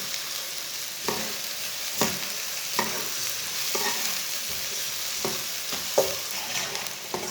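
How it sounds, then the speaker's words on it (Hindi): Finely chopped onions fry in oil while a spoon stirs them, giving a continuous soft sizzle broken by regular scraping strokes roughly once a second. "प्याज को ऐसे ही चम्मच चलाते हुए ब्राउन करना है, एक साइड से जलने नहीं देना।"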